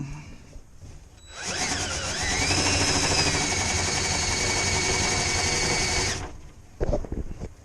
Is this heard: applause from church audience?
no